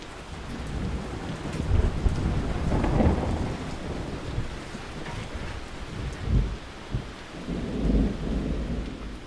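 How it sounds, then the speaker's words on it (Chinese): Heavy rain pours steadily while thunder rolls in several deep rumbles, the loudest near the start and others later, with no talking over it. "突然下这么大雨"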